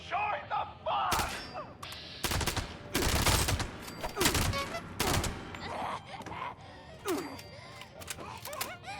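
Gunfire in Fallout 76 at an open-fire venue: bursts of shots and dense volleys with crashing impacts, loud and close, layered over a busy game soundscape with a voice mixed in.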